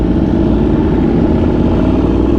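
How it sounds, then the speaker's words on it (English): Loud, raw roar of a sport motorcycle engine revving hard, close and continuous throughout with no voices over it. "This thing rowdy, bro. Loud. Raw, like this bike is raw"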